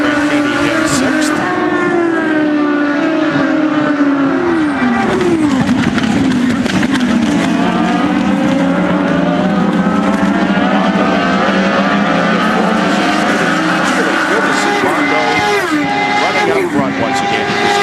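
Indy cars race at the Grand Prix of Alabama, engines screaming at high pitch and sweeping through gear changes as cars pass, loud and sustained, with a commentator talking throughout.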